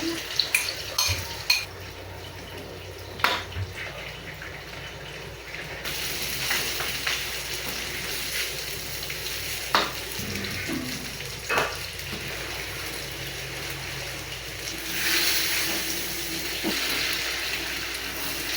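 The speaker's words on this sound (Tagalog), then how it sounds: "Tapos habang nagluluto nga ako ng sinangag sinabay ko na nga rin iluto yung tortang talong." Garlic fried rice and an eggplant omelette cooking in a pan: a continuous soft sizzle under intermittent spatula scrapes and clinks against cookware, the frying swelling louder toward the end.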